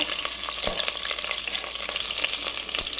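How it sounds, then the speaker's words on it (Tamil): Green chillies fry in hot oil for a Tamil-style salna gravy, giving a loud, dense, continuous sizzle with a few faint stirring knocks, up close and without speech. "நான் அதில் பச்சை மிளகா போட்டிருக்கேன், 6-7 மிளகா. இது வதங்கட்டும்."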